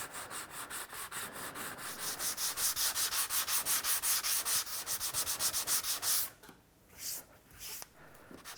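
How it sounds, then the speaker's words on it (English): Sanding of joint compound along a drywall corner bead, a steady rhythm of close, rasping back-and-forth strokes that stops and then returns briefly as a few lighter rubs. "You basically want to sand right down to the metal, right on this edge here."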